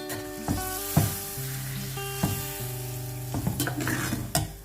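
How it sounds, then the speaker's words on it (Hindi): Lemon pieces sizzling in a hot pan for lemon pickle (nimbu ka achar), a continuous crackling fry broken by several sharp stirring clatters and scrapes, close and clear. "अब जो ये नींबू ये थे इसको भी डाल देंगे इसमें और अच्छे से इसको चलाएंगे।"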